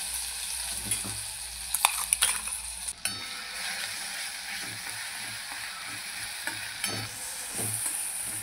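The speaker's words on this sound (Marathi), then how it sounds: "आपण जिरा मोहरी टाकूया तेलामध्ये आणि जो मसाला आपण बनवून घेतला होता तो टाकूया." Cumin, mustard seeds and a homemade spice mix fry in oil for aloo paratha filling, giving a steady close sizzle broken by several scraping stirs and light clatters, with no voices.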